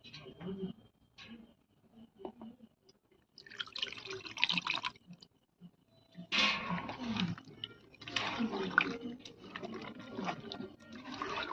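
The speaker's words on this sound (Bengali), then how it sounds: "আমি জল দেবো আরও।" Water goes into a thick, sugary malpua batter: intermittent close splashing and trickling in short bursts separated by quieter gaps, with faint background sounds.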